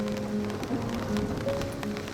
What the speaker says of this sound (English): You can hear the melancholic sounds of rain.